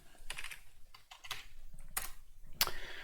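Quick, light keystrokes on a computer keyboard as a folder name is typed, a close series of soft clicks with a few sharper taps, and no one speaking.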